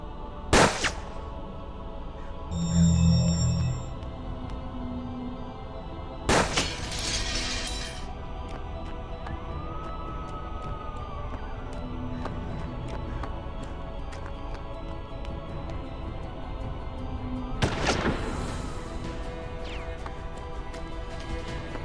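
Six-shooter revolver fire in the western tactics game Hard West: a few sharp, isolated cracks spaced seconds apart over a steady low ambient drone, with a brief glassy shatter near the start.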